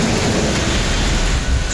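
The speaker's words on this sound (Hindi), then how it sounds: "आधी रात को बादल ऐसे गरजे कि दिल्ली एनसीआर में सबकी नींद उड़ गई" Night storm over Delhi NCR: heavy rain pours in a dense, continuous hiss while deep thunder rolls underneath, loud and unbroken throughout.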